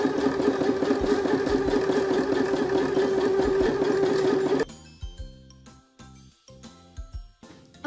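A domestic sewing machine stitching fabric with a steady, loud motor whir and rapid needle rhythm, then stopping, followed by a few short, irregular bursts of stitching and light clicks.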